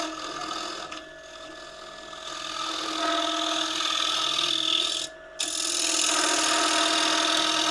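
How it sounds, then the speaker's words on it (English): A round nose scraper works wood spinning on a lathe, giving a continuous bright hissing scrape with one short break near the end and no talking. "I'm coming back to the round nose scraper and cleaning it up"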